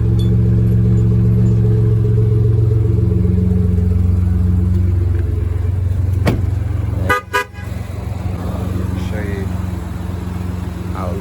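A 2015 Ford F-150 V6 turbo EcoBoost pickup idles with a deep, steady exhaust rumble close by, broken by a couple of brief clicks and a short dip before the rumble resumes.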